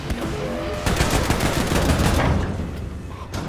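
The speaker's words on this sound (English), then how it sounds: "These dual wield Sturmgewehrs are so strong." Dual-wielded Sturmgewehr rifles fire in Wolfenstein: The New Colossus, a dense, loud burst of rapid automatic gunfire that swells and continues for several seconds before trailing off.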